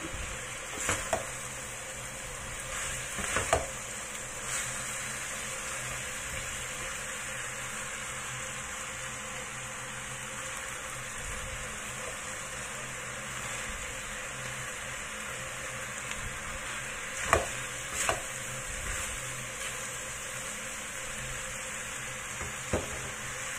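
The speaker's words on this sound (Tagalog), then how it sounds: "Ihalo lang din natin hanggang sa maluto yung pork skin." Pork skin frying in a pan, a steady close sizzle running throughout, broken by occasional scrapes and knocks of a utensil as it is stirred.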